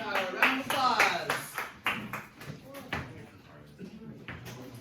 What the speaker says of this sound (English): Round of applause for solar power.